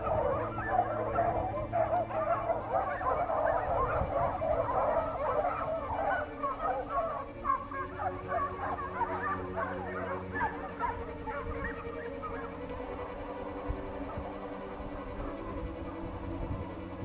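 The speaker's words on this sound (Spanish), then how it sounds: "Las ladras de los perros cada vez hacen acudir a más canes a la llamada" Hunting dogs bay and bark at a wild boar during a Spanish montería, a dense chorus of overlapping barks from several dogs at middle distance, continuous and busy throughout with low rumbling background.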